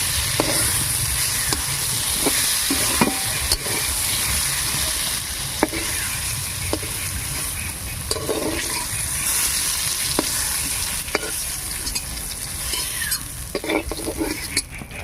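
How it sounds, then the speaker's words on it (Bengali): Green eggplant pieces fry until reddish in oil while a spatula lifts them out, a steady close sizzle broken by frequent metallic scrapes and taps against the pan. "সব লাল লাল করে ভেজে নেওয়া হয়ে গেছে। এবার আমি তুলে নিচ্ছি বেগুনগুলো।"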